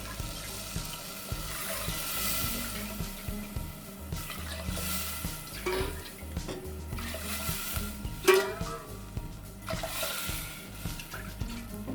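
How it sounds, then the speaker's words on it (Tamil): Water runs and splashes into a pot in a steady pour while cooking mint rice, with a few clinks and gurgles, fairly quiet and without speech. "நான் இப்போ வந்து ஒரு 7 கப் தண்ணி ஊற்றுறேன்."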